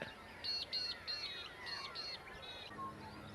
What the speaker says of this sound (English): Got a few wading birds there in the early morning light.